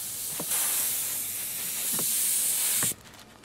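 An old compressed air hose blows and leaks while cleaning a Dell Dimension 4600 computer, a continuous close hiss with a few faint knocks, cutting off abruptly near the end.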